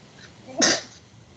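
A single sharp sneeze bursts out at close range, short and loud against a quiet room.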